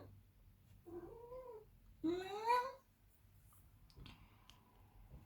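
A pet cat meows indoors: a short, faint mew, then a louder, drawn-out rising meow nearby, followed by soft low murmurs in a quiet room.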